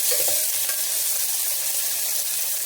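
Sliced onions and green chilies sizzle steadily in hot ghee inside a pressure cooker, a continuous close frying hiss with a brief stir near the start and no talk.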